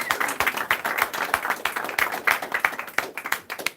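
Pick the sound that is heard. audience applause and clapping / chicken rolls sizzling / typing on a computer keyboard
audience applause and clapping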